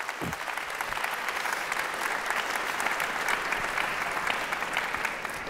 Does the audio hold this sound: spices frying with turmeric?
no